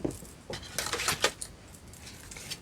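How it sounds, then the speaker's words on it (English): Metal scissors are set down on a crafting table, giving a few short light clinks and taps close by, with quiet room tone between them. "Put the scissors out the way, otherwise I'll end up stabbing myself."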